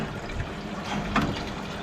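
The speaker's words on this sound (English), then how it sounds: "All the ball valves are filling up." Toilet cistern ball valves fill with water in a steady hissing, trickling rush, close and continuous, with a small clunk partway through.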